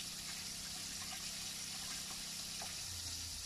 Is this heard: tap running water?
yes